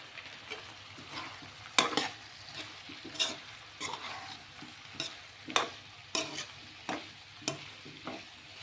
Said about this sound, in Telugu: ఇవి ముక్కలు పట్టేంత వరకు కొంచెంసేపు ఒక 2 నిమిషాల పాటు ఫ్రై చేసుకుందాం